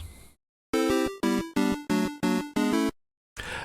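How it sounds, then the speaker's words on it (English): Short game over jingle from the NES game Cobra Triangle: six bright, evenly spaced synth chord stabs in a quick rhythm, loud and alone, followed by a brief burst of noise. "Game over on Cobra Triangle sounds like this."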